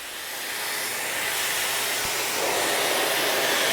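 A Miele Complete C3 Carpet & Pet vacuum cleaner runs on carpet, a loud close steady roaring hiss that swells slightly as it works, with a single faint thump midway.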